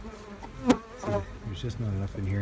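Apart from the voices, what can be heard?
honey bees buzzing in a small hive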